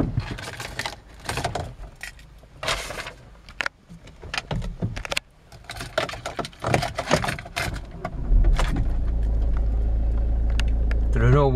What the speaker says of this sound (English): I'll just start the car for you.